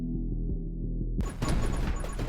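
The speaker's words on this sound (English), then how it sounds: "Our tiny supplemental explosions can hurt us." Small supplemental explosions in the top-down shooter 20 Minutes Till Dawn, a steady rattling burst of crackling pops that starts suddenly over a droning game music bed and keeps going.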